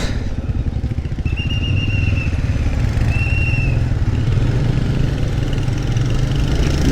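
A motorcycle engine idles steadily up close in a parking area at Murudeshwar on India's coast, a continuous low rumble that never lets up, with a faint high tone briefly appearing twice.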